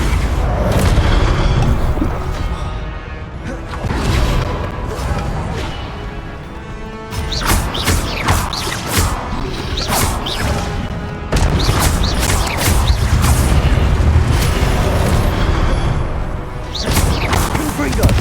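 Repeated Confringo blasting spells in Hogwarts Legacy on Xbox One burst as loud booming explosions in rapid succession, mixed with other spell impacts and crashes in a dense combat soundscape.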